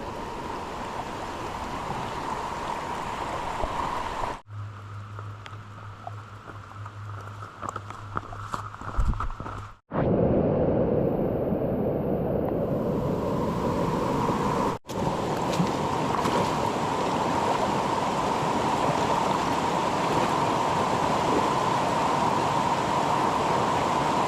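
Loud, continuous rush of a fast stream at a trail crossing in the 100 Mile Wilderness of Maine, water crashing over big slippery rocks, with a few brief dips and bumps as the microphone moves.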